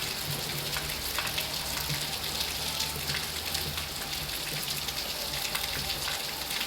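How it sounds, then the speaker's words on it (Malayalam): Rain falls steadily in Idukki, a dense even hiss of drops spattering on surfaces, moderately loud and unbroken for the whole stretch, with no voices. "ഇതിൻ്റെ ബാക്കൊന്ന് പിടിക്കുന്നത് ഇടുക്കത്തെ മഴ"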